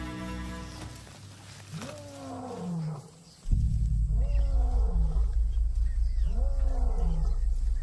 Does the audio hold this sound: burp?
no